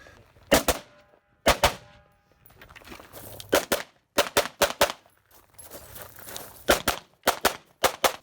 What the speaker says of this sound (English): it's been fun since she just picked up 3-gun this year to watch her running her shotgun really well